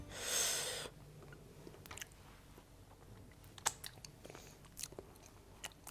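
Someone chewing scrambled eggs cooked into soft curds, heard as quiet, close, irregular mouth sounds and small squishy bites after a brief louder rustle at the start.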